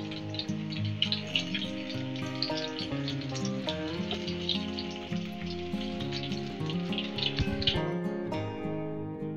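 Paneer bhaji frying in hot oil over a low gas flame, a steady dense crackle and sizzle running continuously at close range with a musical tone underneath.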